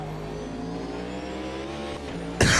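BMW race cars at the IMSA 24 Hours of Daytona in the sim racing game Automobilista 2, engines droning steadily at high revs with shifting pitch, ending in a brief loud burst of noise.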